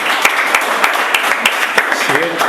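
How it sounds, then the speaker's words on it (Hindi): A crowd at an open mic poetry night claps in a brief burst of applause, the sharp claps scattered and uneven, with a voice speaking over them. "ताली बजनी चाहिए थी यार।"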